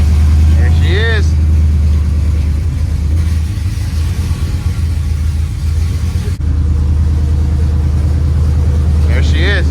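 A drift truck engine runs after being fired up, a steady loud low rumble throughout with a slightly choppy idle, with people's voices heard faintly over it.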